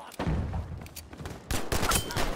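Bursts of gunfire in the World War II shooter game Battlefield V, with a dense volley early on and a second, louder stretch of rapid shots near the end, fairly close and with no talking.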